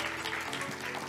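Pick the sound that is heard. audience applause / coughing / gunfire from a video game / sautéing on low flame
audience applause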